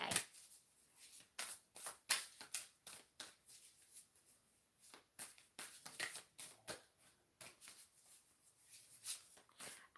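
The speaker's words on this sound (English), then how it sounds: "I've been shuffling this deck," A tarot card deck being shuffled close up, with repeated soft riffling bursts and brief pauses between them, quiet and without talk.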